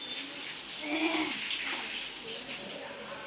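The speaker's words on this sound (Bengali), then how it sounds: "বাবা স্নান করে নিচ্ছে।" A father bathing at home, with water running and splashing steadily into a bath or bucket at close range, a fairly quiet and continuous wash of sound.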